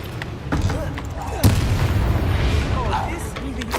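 Confringo fire spell blasts in the Hogwarts Legacy video game, a loud booming impact followed by rumbling bursts, heard beneath a voice and game sounds.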